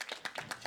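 Audience clapping during a church service, heard as a few short bursts of hand claps in a quick, uneven rhythm, fairly close and moderately loud.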